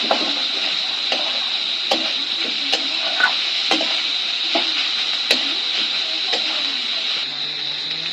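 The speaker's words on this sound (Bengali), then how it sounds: "এবার আমি দিয়ে দেব কেটে রাখা পেঁয়াজ কুচি। ভালোভাবে মিশিয়ে নেব।" Chopped onions frying and being stirred in a pan for street-style chicken chowmein with green beans, a steady bright sizzle and hiss with sharp spatula scrapes and clicks against the pan.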